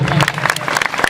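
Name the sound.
audience applause for the saints' community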